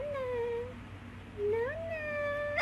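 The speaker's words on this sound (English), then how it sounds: "My cat's meow is so high-pitched" A cat gives several high-pitched meows, drawn-out and rising in pitch, close and clear over quiet room tone.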